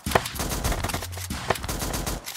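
A heal gun firing in the Zombs Royale video game, a rapid stream of punchy, crackling shots in quick succession, loud and dense over about two seconds.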